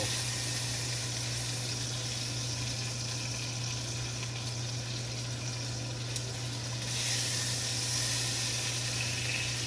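Lamb chops cooking in a cast iron skillet give off a steady, moderately quiet sizzle and hiss over a low constant hum, with a slight brightening of the frying noise toward the end.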